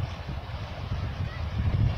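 Gusty wind on a cold Lake Michigan shore with whitecapped waves, a steady low rumble buffeting the microphone and swelling louder toward the end.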